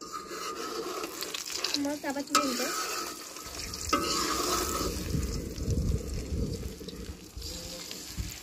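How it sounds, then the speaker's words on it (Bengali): Four beaten eggs fry together in a pan with a soft, continuous sizzle, broken by scraping stirs and a few sharper spits close by. "4টা ডিম গুলিয়ে নিয়েছি এবং 4টা ডিম একসঙ্গে ভেজে নেব"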